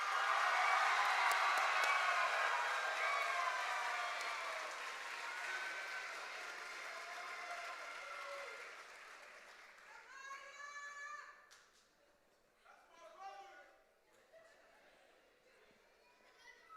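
Applause from the crowd at a high school class of 2026 graduation ceremony, a loud dense wash of clapping that slowly fades, with children's voices and talk emerging near the end.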